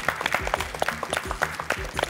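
Studio audience clapping on a Marathi television talk show, a quick, lively patter of handclaps heard under a person speaking over it.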